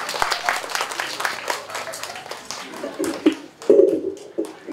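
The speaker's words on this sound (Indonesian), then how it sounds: "Tepuk tangan." Audience members at a Bandung creative city forum clap as a speaker is called up, scattered moderately loud applause with distinct individual claps, and a voice briefly breaks in near the end.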